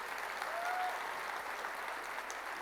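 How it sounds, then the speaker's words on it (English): A school annual day audience applauds top-scoring students, a steady burst of clapping heard from some distance at modest volume. "I think they deserve a big round of applause"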